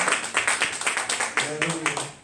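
A church congregation claps in a steady rhythm, the sharp beats close and loud, with voices mixed in underneath throughout.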